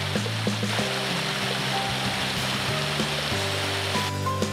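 Clear mountain river stream in a pine forest, gurgling and splashing in a steady wash of water noise with shifting low burbles, fairly close and heard alone.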